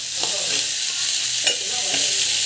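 Onion sautéing with fennel and cumin in a pan, a constant hissing sizzle with a few soft stirring scrapes.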